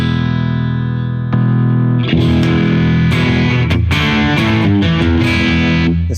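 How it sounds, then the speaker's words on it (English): Electric guitar played through a BB preamp pedal profile: a sustained note rings alone, then loud, overdriven chords are strummed steadily with a clear attack on each stroke. "This is the BB preamp, and this is pretty much the setting that I've had it on."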